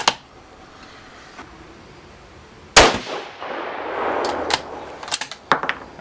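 A 6.5 Creedmoor rifle fires 140gr boat-tail hollow point bullets on a range, one sharp loud shot with a rolling outdoor echo, followed by a few fainter clanks and impacts.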